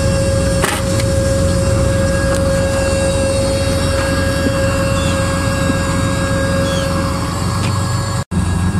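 A stock generator engine in a 1986 Lesharo RV runs as a steady, close, continuous drone with a constant tonal hum, slightly uneven as if missing, with no talking.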